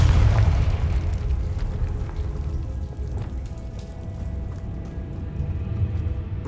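A Confringo spell in Hogwarts Legacy bursts with a heavy boom at the start, then a rumbling, crackling roar that lingers at a steady, loud level.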